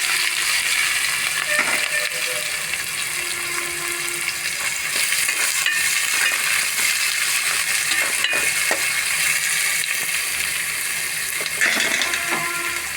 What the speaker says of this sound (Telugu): ఆయిల్ కాగిందండి. ఇప్పుడు జీలకర్ర వేసుకుందాం.